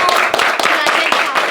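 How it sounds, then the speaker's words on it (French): A small crowd claps and applauds for Mousse, a quick burst of scattered, close hand claps lasting barely two seconds, with some voices mixed in. "s'il vous plaît, un tonnerre d'applaudissements pour Mousse"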